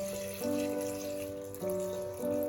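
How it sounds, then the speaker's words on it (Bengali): Water is poured into a ginger-garlic paste ground for Bhutanese chicken datshi, making a steady close trickle with a faint ringing tone that swells in two or three pulses. "এবার এর মধ্যে জল মিশিয়ে দেবো"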